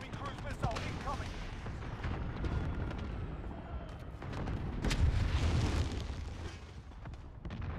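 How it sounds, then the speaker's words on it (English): Enemy cruise missile strike in Call of Duty: Modern Warfare, a dense run of booming explosions and rumbling blasts with scattered gunfire cracks, loud and continuous, heaviest around the middle, with brief voices mixed in. "Enemy cruise missile incoming."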